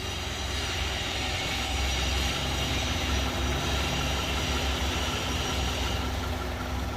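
A Honda Elysion with a K24Z4 engine idles with a reported vibration, a steady, even low rumble and hum held throughout at moderate level.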